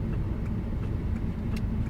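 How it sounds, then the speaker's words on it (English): Volkswagen Beetle built in 993 GT2 style under full throttle, giving a dense, steady low engine rumble heard from inside the car. "We'll try to floor it one time."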